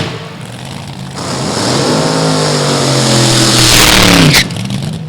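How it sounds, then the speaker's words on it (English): A nitro-burning supercharged dragster engine at an NHRA Division 3 drag race on Route 66 revs up hard from a steady idle into a loud, rising roar for a few seconds, then cuts off abruptly. "It's time to make some noise here with a nitro burning combination car"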